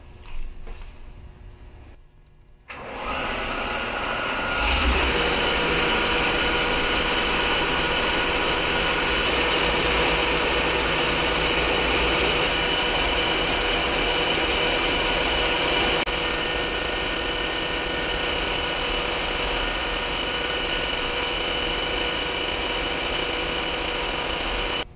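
A lathe turns metal stock for a lightsaber, bringing a steady whining, grinding drone that starts a few seconds in and runs continuously and loudly to the end.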